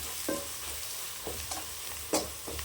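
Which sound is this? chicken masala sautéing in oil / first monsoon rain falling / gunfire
chicken masala sautéing in oil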